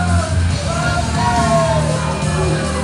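A wrestler screams and yells at an opponent during an IZW independent wrestling show, loud raw shouting held over a continuous crowd roar inside the arena.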